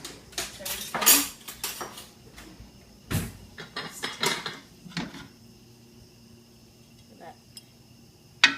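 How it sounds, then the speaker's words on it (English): A serving spoon clinks and scrapes against a pot while dishing up jambalaya, with a handful of sharp metallic knocks in the first half, then quieter, with faint talk nearby. "Let's serve it up with a nice serving spoon."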